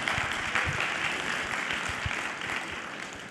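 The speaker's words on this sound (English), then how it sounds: "I'll take the clap." Audience applause at a WebAssembly tech conference talk on Backstage plugins, a steady wash of clapping from a room of listeners that holds evenly for a few seconds and fades slightly near the end.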